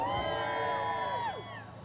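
Comedy club audience responding to a comedian's call-out, a loud burst of whooping and cheering voices that swells and then tapers off after about a second and a half.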